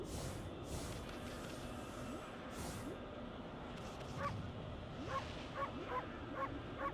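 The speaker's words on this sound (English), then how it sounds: "There's a bark button." Short dog barks and yips from a bark button in the video game Okami, several quick calls clustered near the end over steady game music and ambience.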